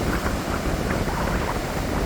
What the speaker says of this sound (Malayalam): കടൽ വളരെ പ്രക്ഷുബ്ധമാണ്